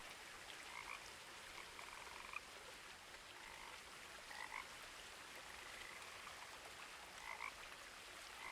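Frogs croak in the game What Remains of Edith Finch, several faint calls repeating every few seconds over a steady hiss of background ambience, with no talking.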